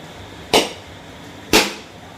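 Palm fruit is cracked open with two sharp, loud knocks about a second apart, each a single crisp impact against quiet background.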